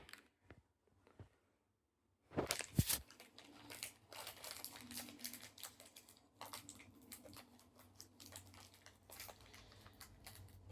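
A Nature Valley Crunchy Peanut Butter granola bar wrapper is handled and torn open, with a sharp crinkling rip followed by scattered soft plastic crackles and rustles, close and fairly quiet.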